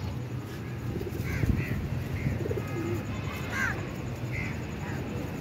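Birds call and coo in short repeated notes over a steady outdoor background hum, fairly close.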